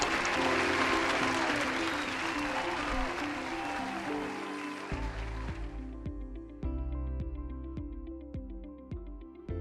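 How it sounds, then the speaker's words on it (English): Applause for a new president at a ball, moderately loud and sustained, gives way after a few seconds to music with a steady beat. "May everyone please give him a rousing applause."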